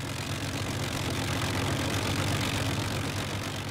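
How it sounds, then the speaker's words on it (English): The four Merlin engines of a WWII Lancaster bomber run together in a steady, dense, droning roar, loud and unbroken from start to finish. "The sound of four Merlins"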